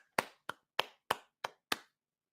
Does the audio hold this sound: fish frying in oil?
no